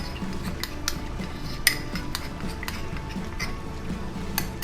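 A spoon stirring red chili powder and masala spices together in a bowl for mutton curry, light repeated clinks and scrapes of metal against the dish at close range, no speech.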